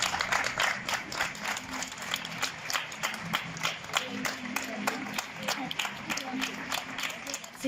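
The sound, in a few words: neighbours and doctors applauding in the street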